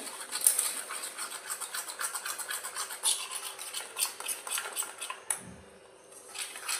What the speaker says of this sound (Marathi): ह्या सगळ्याला ना आता व्यवस्थित मिक्स करून घ्यायचं